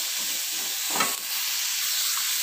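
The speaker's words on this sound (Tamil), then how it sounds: "மீடியம் ஃப்ளேமில் வைக்காதீங்க, ஃபுல் ஃப்ளேம்லேயே வச்சுட்டு அப்படியே வதக்கிறேங்க." Vegetables for Chinese-style egg noodles sauté over a full flame, giving a steady close sizzle with a brief louder stir or toss in the middle and no talking.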